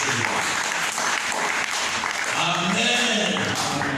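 A church congregation applauds, a loud, dense, continuous clapping that runs throughout, with voices rising over it toward the end.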